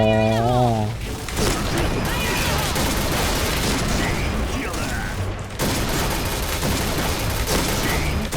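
Dense bursts of rapid gunfire crackle through a shooter video game battle, sustained and loud for several seconds with mechanical clatter, while a player talks excitedly over the action.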